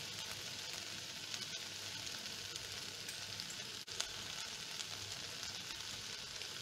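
Chilli beef with soy sauce frying in a pan, giving a steady close sizzle with a brief stirring clatter partway through; no voices.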